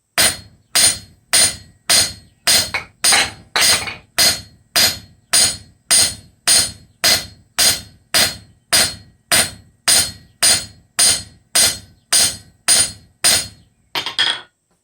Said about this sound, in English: and then we're going to hammer